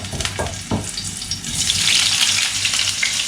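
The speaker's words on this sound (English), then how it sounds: "I better be careful. The oil is shooting on my face." Sausages fry in hot oil for devilled sausages, a steady loud sizzle with sharp spattering pops near the start that builds into a dense crackling hiss.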